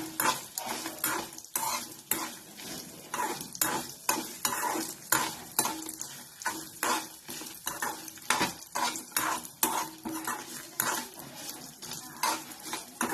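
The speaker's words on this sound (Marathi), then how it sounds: "आणि मोहरी 1/2 चमचे घालायचं आणि आता हे चांगलं हलवायचं." Rapid, rhythmic scraping of a spoon stirring cumin and mustard seeds in a hot frying pan, with metallic clinks against the pan and a light sizzle throughout, close up and without talk.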